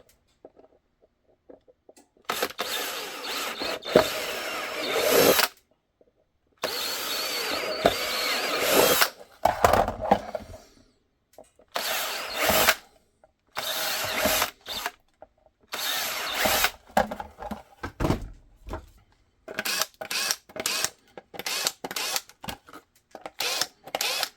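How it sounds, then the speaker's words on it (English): A power drill whines in repeated bursts, starting and stopping many times with short silences between, loud and close, some runs longer, others quick stabs. "I'm going to drill it"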